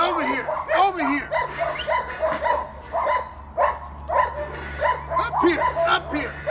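Young puppies bark and yip in an excited, uneven run of short high cries, with a voice calling out among them.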